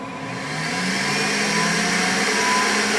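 A Creality K1 high-speed 3D printer runs loudly, its fans and motors building into a steady whirring hum with rising tonal whines, close and continuous.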